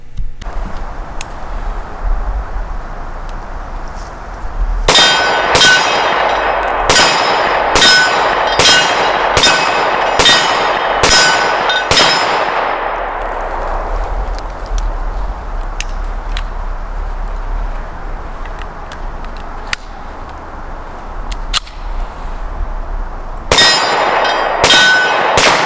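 HK P9S pistol fired in a quick string of sharp, loud shots with ringing metallic clangs, then a pause and a few more shots near the end.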